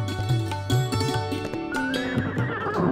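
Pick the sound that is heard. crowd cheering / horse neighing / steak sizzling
horse neighing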